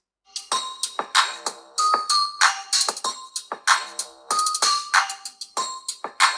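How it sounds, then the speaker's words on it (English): A Poco F3 phone's dual stereo speakers play a bright chiming ringtone melody, with quick repeated bell-like notes in a bouncy rhythm, clear and close with no talk. "let's check out the volume and in terms of clarity and bass on both of these two phones"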